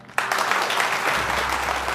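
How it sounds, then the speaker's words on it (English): A standing ovation fills a room of NFL men on their feet, dense loud applause starting abruptly and holding steady with a low rumble beneath. "Every man in the room is on his feet and applauding."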